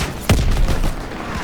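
Suppressive gunfire in a World War II video game: a single sharp, loud shot bursts out, followed by dense rumbling battle noise and scattered further reports in the background.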